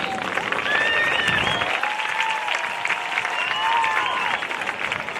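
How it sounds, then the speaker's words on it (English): Audience applause fills a high school gym or event hall to honor graduating seniors, a dense, sustained clapping with scattered crowd noise that holds steady for several seconds, with no talk over it. "Let's give them all a round of applause as we honor these outstanding seniors."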